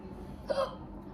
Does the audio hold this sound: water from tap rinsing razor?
no